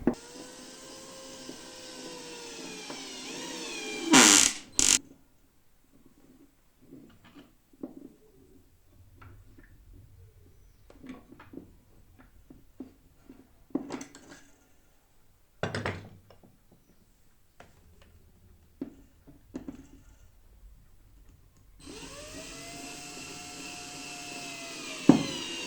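Screws being drilled into a wall, with two loud bursts of a high-pitched whining drill at the start and the end, separated by scattered knocks and handling noises at a quieter level.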